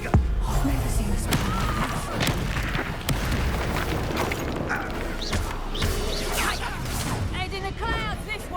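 In Hogwarts Legacy, a Confringo fire spell bursts in a muffled boom amid a busy fight full of creaks, thuds and repeated impacts, with voices talking throughout.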